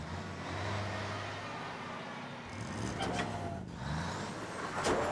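Cartoon delivery trucks pulling up for loading, a steady engine rumble with hissing air-brake bursts and a rising whine near the end, close and continuous.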